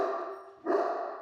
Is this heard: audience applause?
no